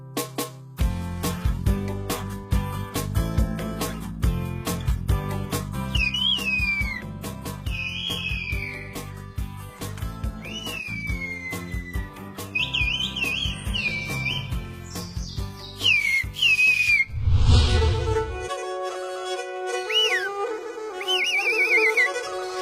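A Turkish shepherd whistles in the whistled language used to herd and call sheep, sending several sharp, rising and falling whistled phrases over a steady tonal background, loud and close, with no talking.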